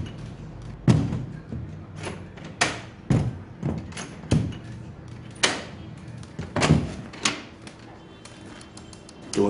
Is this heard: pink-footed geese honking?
no